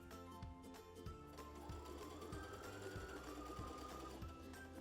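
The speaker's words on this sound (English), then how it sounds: "we're going to have our machine stitch backwards all the way to the edge, and that'll really reinforce the top of that pillowcase" Sewing machine stitching a pillowcase seam, a close, even rhythmic chatter of needle strokes running continuously, faint in level with no talk.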